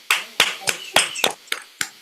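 A few scattered hand claps, about seven sharp separate claps, from a small online gathering unmuting during a Juneteenth celebration, close and uneven, with voices chatting in between.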